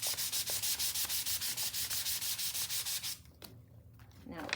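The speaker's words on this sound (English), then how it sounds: "place the middle part of my painting right on top of that printing plate and rub it with my baren" A baren rubbed over paper laid on a printing plate during a grade-school printmaking lesson, quick rhythmic swishing strokes close by for about three seconds, then quieter handling sounds.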